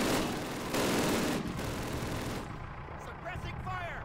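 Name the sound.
gunfire in Call of Duty video game, suppressing fire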